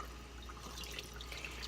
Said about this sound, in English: lift up the dish and rinse it off in the water